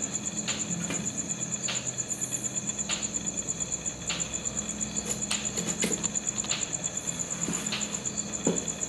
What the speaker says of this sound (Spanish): Uy, un grillo. Ah, un grillo.